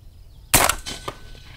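A single 8.6 Blackout rifle shot fired through an Athlon Optics 1-10 scope setup, loud and sharp, followed by a short echoing tail over a quiet outdoor background.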